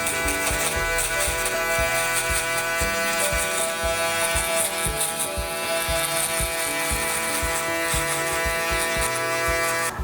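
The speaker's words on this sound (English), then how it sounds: "or the box shaver on the bottom." An electric box shaver buzzes continuously in a close, steady drone while trimming hair low and light for a mid fade with a skin taper, with faint rhythmic clicking underneath and no talking.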